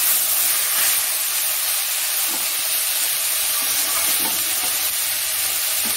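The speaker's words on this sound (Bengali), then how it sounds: "আমরা শাকটিকে তেলের সঙ্গে ভালোভাবে মিক্স করে দেব" Water spinach stir-fries in hot oil, giving a loud, dense, unbroken sizzle and hiss close up, with faint stirring underneath and no talk.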